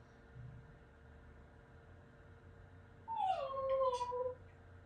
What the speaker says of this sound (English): who's got a puppy crying?